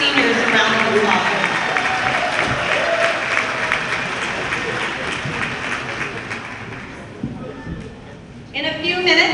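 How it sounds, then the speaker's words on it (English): A crowd in a high school gym at a girls' volleyball match applauds parents and seniors with steady, loud clapping and cheering that holds for several seconds, then briefly dips before rising again. "please give all of our parents and our seniors a round of applause"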